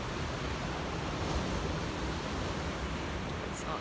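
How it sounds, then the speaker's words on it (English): Beach surf at a stealth camping spot, a steady broadband wash of waves with wind buffeting the microphone throughout, no distinct breaks standing out. "Beautiful beach."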